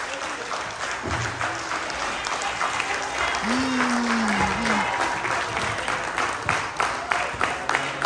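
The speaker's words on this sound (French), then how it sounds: "On doit applaudir le Seigneur." Applause for the Lord rises through a church congregation, steady broadband clapping that carries on for several seconds, with voices and a sung or spoken tone drifting over the din.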